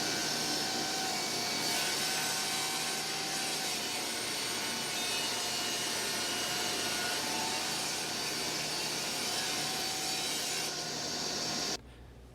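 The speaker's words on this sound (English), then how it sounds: "I've set up my table saw to cut the angles. So we're going to go ahead and cut the real piece now" Table saw slicing through angled wooden roof pieces for a toy horse barn, a loud continuous whining cut that holds steady for about twelve seconds before the blade noise drops off sharply at the end.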